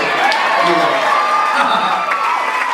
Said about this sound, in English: that should get applause.